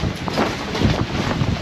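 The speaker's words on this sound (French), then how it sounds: "On a des rafales à 97." Strong wind gusts of up to 97 km/h batter a boat, producing a loud, continuous roaring buffet of wind against the microphone with no voices.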